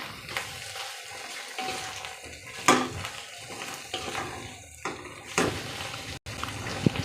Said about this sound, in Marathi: भाज्या मी तेलामध्ये छानशा परतवून घेते.